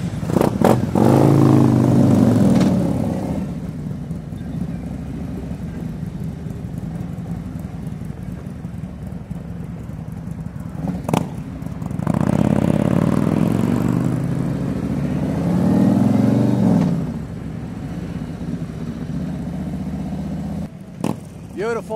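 A group of five Harley-Davidson Electra Glide motorcycles sets off on a Sunday morning ride, engines rumbling loud and close with swells of revving, with clatter and voices heard over the engine noise.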